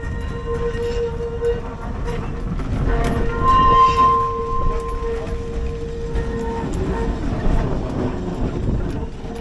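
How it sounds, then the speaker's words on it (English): A restored old corporation tram rolls past with a steady rumbling, squealing hum and a brief whistle-like tone, building then easing off, amid outdoor crowd noise. "And here comes the tram."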